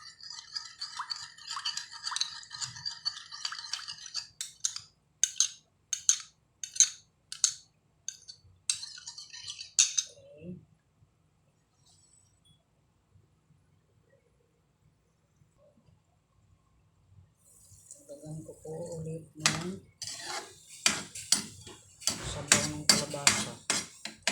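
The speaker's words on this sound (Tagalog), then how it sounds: "Timpla sa kape. Halo ang kape." Metal spoon clinking rapidly against the inside of a coffee cup while stirring, in bursts of quick bright taps separated by a quiet pause and then a louder flurry.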